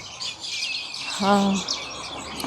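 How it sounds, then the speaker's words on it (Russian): Small birds sing overhead with a steady wash of high, quick chirps outdoors, while a voice briefly sounds beneath them. "Слышите, вот наверху птички поют."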